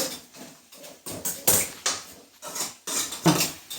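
Crab masala curry stirred in a pot, a steady series of close metallic scrapes and clinks of a ladle repeating roughly every half second.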